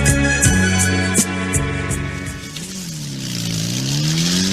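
Motor tricycle engine in a street setting, revving loudly with several sharp throttle bursts, then settling into a steady, rising-and-falling drone, alone with no talk.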